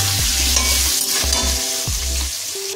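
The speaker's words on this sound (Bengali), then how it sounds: "আলুগুলো লাল লাল করে ভেজে নিচ্ছি।" Potato pieces fry in hot oil in a pan for chicken curry, a loud continuous sizzle broken by several close scraping stirs of a spatula.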